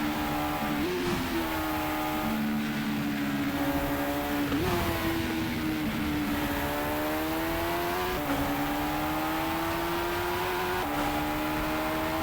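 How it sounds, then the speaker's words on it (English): A race car engine from the Monoposto driving game revs steadily and loudly throughout, its pitch climbing and dipping through gear changes, with no talking. "the car sounds great"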